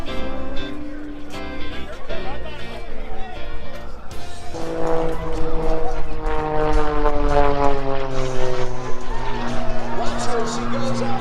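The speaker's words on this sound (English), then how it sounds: "she goes on that vertical line and starts the airplane rolling to the left, climbing skyward" An aerobatic propeller airplane at an air show drones loudly and continuously, its engine pitch shifting as it climbs and rolls, while a spectator talks over it.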